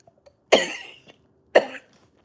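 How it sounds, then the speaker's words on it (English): Two sharp, close coughs about a second apart, each trailing off quickly, with near silence around them. "This happens to me when I"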